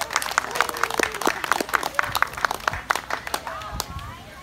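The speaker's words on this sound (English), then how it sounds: "Please give her a round of applause." Audience applause for the first singer of the night at an outdoor Music in the Park performance, a scattered crowd clapping steadily with some cheering and voices mixed in.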